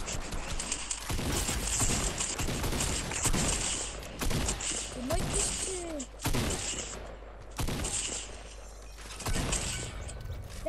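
Rapid gunfire bursts from a video game shooter, repeated clattering volleys separated by short pauses, with mechanical reload clicks in between, moderately loud and close throughout.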